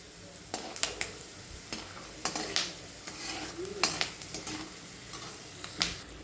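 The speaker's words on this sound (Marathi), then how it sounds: "तेल गरम झाल्यावर शेंगदाणे टाकलेत आपण" Peanuts frying in hot oil in a pan, a soft steady sizzle broken by repeated scraping stirs and light clinks of a utensil against the pan, with no talking.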